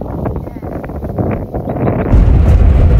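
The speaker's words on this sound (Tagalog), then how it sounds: "O pakinggan nyo yung hangin sa paligid." Wind gusts across the Chocolate Hills in Amulung, Cagayan, rumbling loudly against the microphone and growing stronger toward the end, with a voice speaking under it early on.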